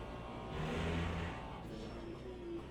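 Ferrari GT3 race car at Le Mans in a racing game, engine note swelling and revving as it accelerates, a mid-pitched whine held under a steady rush, no talking.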